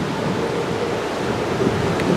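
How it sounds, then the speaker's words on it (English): Strong wind roars steadily across an open cruise ship deck beside the lifeboats on the Allure of the Seas, a constant broadband rush with slight gusting and no voices. "Being out by the lifeboats, it's like really windy."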